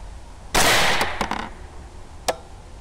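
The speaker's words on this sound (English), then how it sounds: "Second shot." A rifle shot fired while testing a Bering Optics 640-resolution prototype clip-on thermal weapon sight: one loud, close report with a decaying echo, followed about two seconds later by a short, sharp crack.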